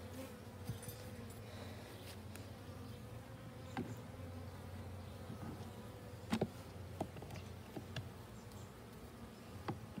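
Honey bees drone and buzz steadily around an opened hive during a beekeeping session, a dense, continuous hum close by with occasional sharper passes of individual bees and faint knocks, no talking.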